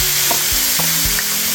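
Soy sauce, oyster sauce and sauteing wine hit a hot pan with ginger for shrimp and broccoli, a loud, continuous sizzle with a few low knocks of a utensil or pan.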